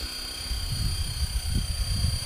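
A KDS 450 radio-controlled helicopter flies during training, its motor and rotor giving a steady low buzzing drone with a faint high whine, continuous and fairly close throughout.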